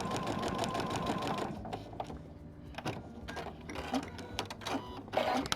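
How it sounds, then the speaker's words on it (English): A sewing machine runs steadily and close by as it stitches fabric along a seam line during foundation piecing. The motor whirs with a busy mechanical rhythm that pauses and speeds up briefly. "So we're just going to stitch again right along that seam line."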